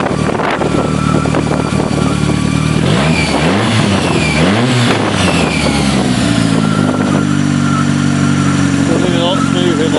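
Engine of a sporting trial car running on gas through a forklift truck carburetor, close and loud, revving up and down twice before settling into a smooth, steady run, with talk over it.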